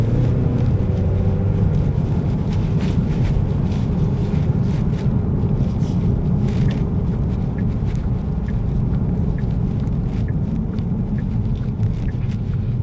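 A 2024 Genesis G70 2.5T AWD Sport Prestige with a 2.5-litre turbo engine accelerates on the road. A steady low engine and road rumble runs throughout, mixed with wind noise and no talking.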